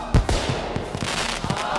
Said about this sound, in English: Those are some interesting fireworks.